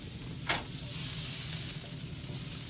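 Butter sizzles and hisses steadily in a pan with chicken, a close, continuous frying sound with a brief sharp crackle near the start and no talking.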